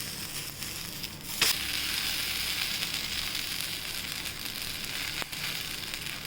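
Uttapam sizzles steadily on a hot pan after being flipped, with sambar masala sprinkled over it; a dense, even frying hiss runs throughout with a couple of brief sharp clicks.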